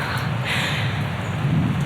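Wind rushes and rain pours steadily outdoors just before a downpour, a loud, dense, unbroken hiss with low rumbling underneath and no voices.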